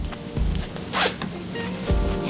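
A zipper on a small Tip Top sewing bag is handled up close, giving several quick rasping zip strokes with soft handling rustles between them.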